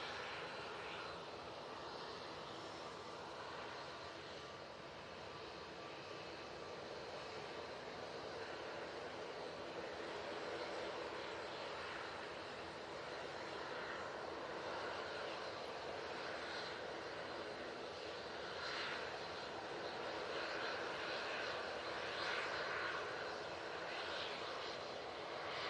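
A Qatar airliner passes over Manchester Airport, a steady, broad jet-engine roar that holds for the whole stretch and builds slightly toward the end, with no voices.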